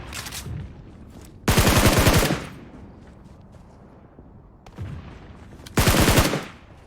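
Automatic gunfire in an online shooter game on an ambush-heavy map comes in two loud sustained bursts, each preceded by a short burst, with quieter game ambience between them.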